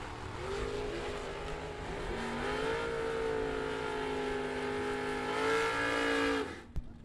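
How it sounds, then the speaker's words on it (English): Drag racing cars, including a 1980 Chevrolet Malibu, launching down the strip with a loud sustained engine roar that climbs through the gears for several seconds, then cuts off sharply at the end. "Wow, what a drag race."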